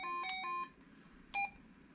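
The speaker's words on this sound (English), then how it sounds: "every time we turn the key or do a command here on the front, it will give us a confirmation beep" A President Walker III CB radio gives short electronic confirmation beeps: a quick cluster of tones at the start, then one more beep a second later, close and fairly quiet with no talking.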